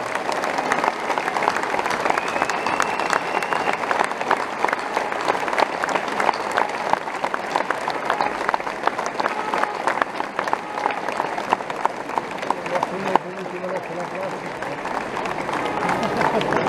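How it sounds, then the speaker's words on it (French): Outdoor crowd at a hunters' protest outside a prefecture in Mont-de-Marsan applauds steadily and fairly loudly for a long stretch, with crowd noise mixed in beneath the clapping. "je vous demande un superbe applaudissement pour l'encourager"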